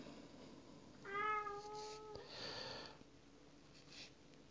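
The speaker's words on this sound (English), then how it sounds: "Ignore the cat." A cat meows once, a clear drawn-out call in a quiet indoor room where a pike fishing fly is being tied, the meow rising then sliding, followed by soft sniffing rustle.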